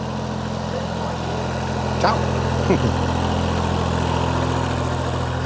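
A tractor engine idles steadily with a low, even drone, close by, during a grape-pressing day on a Portuguese farm, while a voice briefly speaks over it.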